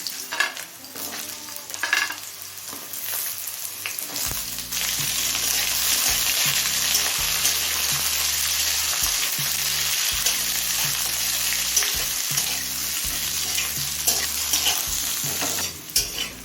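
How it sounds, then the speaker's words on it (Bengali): Potato, radish and carrot pieces fry over a low-medium flame with panch phoron and dried red chilli. A few utensil clatters come first, then a loud, sustained sizzle with repeated scraping stirs of a spatula in the pan. "আলু মুলো আর গাজরটা মিনিট পাঁচ লো মিডিয়াম ফ্লেমে ভেজে নিয়েছি"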